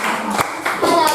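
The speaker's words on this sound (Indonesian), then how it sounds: "tepuk tangan buat kelompok 5" Classroom applause for a student presentation group: a short burst of dense hand clapping from many people in a room, loud and close.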